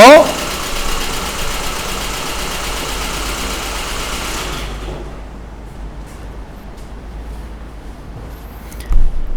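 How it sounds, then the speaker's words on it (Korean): A car engine idles steadily in a workshop during an air flow sensor test, a loud continuous rumble that cuts off partway as the ignition is switched off, leaving a quiet room with faint clicks. "시끄러운 관계로 시동을 오프하고 오도록 하죠"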